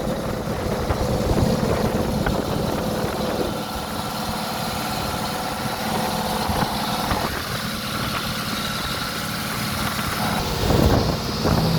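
A boat engine drones steadily and loudly throughout as the boat travels between dive sites, a constant rumbling motor noise with rushing wind and water around it.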